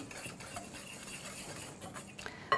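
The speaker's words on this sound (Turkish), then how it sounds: "Her şeyi şöyle bir harmanlıyorum. İyice karıştırıyorum." Cocoa powder and other dry cake ingredients stirred together in a bowl, a steady close scraping and light clinking of utensil against the bowl throughout, with a brief louder knock at the very end.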